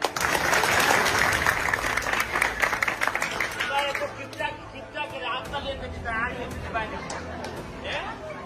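A crowd at a public gathering claps loudly for a politician, a dense burst that fades after a few seconds into chatter and cheering voices.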